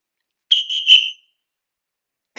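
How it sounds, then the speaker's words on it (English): Three sharp, shrill whistle blasts sound in close succession on a beach, loud and clear against silence, followed by a brief noise at the end. "3 whistles rang out."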